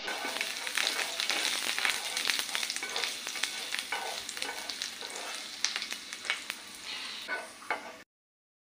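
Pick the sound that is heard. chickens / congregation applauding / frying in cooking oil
frying in cooking oil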